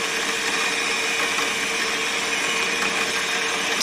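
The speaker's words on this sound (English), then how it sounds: "now I'm going to do a bit change and go all the way through with this number" A small drill with a number 44 bit drilling through metal, a steady high-pitched whine with a constant buzz that holds evenly, close and loud with no talk.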